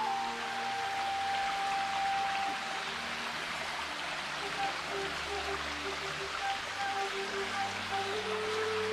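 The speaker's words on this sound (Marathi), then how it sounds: "पाण्याचा तुम्हाला आवाज येईल." A water stream flows at a hillside ashram at Girnar, Junagadh, Gujarat, making a steady, faint wash of rushing water that persists throughout with no break.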